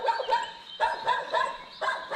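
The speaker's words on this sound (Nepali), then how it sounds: "कुकुर पनि भुक्दैछ।" A dog barks in a short series of about four or five yelping, slightly whiny barks at moderate distance, alone without talking.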